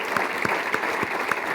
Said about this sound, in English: I think we should give a great round of applause